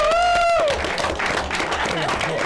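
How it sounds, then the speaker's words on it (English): A late-night talk show studio audience gives a round of applause that rises as a sustained wash of clapping and crowd noise after a brief sung or musical tone, while a voice talks over it. "Ladies and gentlemen, round of applause."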